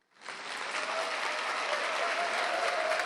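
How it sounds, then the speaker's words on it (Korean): An audience in a hall at Castel Gandolfo breaks into applause to welcome guests, a dense, steady wash of clapping that swells in quickly and holds loud and even to the end. "박수로 환영해 합시다."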